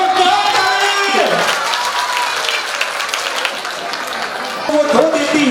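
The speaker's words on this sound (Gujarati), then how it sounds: "જોરદાર તાળી!" Sustained clapping from a crowd at a Gujarati community gathering where donations are being announced, steady and fairly loud throughout, with voices and tonal sounds threaded through the applause.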